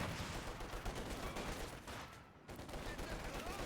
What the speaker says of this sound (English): Guards, rifle, infantry have just upgraded to their DP light machine guns.